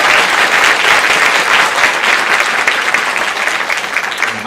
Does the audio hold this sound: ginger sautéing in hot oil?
no